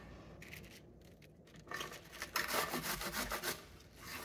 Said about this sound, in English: So we're going to grate the cabbage,